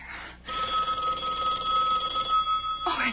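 An old telephone bell rings continuously for about two and a half seconds, loud and close, with a steady metallic jangle that cuts off abruptly, in a quiet indoor scene from a 1981 drama.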